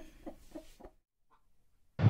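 Broody native hens settled on a clutch of eggs give a few soft, low clucks close by, followed by a brief pause and then a sudden louder rustle.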